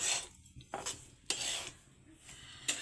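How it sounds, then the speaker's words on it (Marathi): Semolina roasting in a pan for laddoos, a spoon scraping and clinking against the metal in irregular strokes, quiet and close with a few sharper knocks. "रवा भाजतायत हे काय बनवतात काय लाडू रव्याचे लाडू बनवतात"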